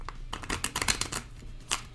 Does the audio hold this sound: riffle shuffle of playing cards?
yes